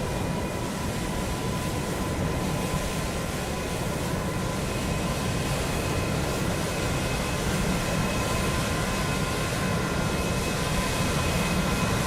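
An Airbus A380 in China Southern livery at London Heathrow in Microsoft Flight Simulator 2020, a steady loud jet engine roar with a constant hum, sustained throughout without talk.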